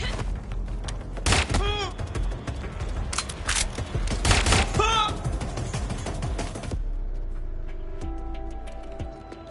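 Rapid gunfire in the video game Watch Dogs Legion, with dense bursts and shots piling up for about seven seconds while shouting voices cut in, then dropping to a quieter background.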